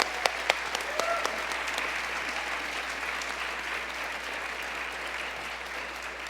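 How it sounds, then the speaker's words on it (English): A small audience applauds Paris Kennedy, a former Girl Scout, with fairly quiet, steady clapping heard from a distance, plus a few sharper close claps at the start. "Can everybody give her a round of applause here?"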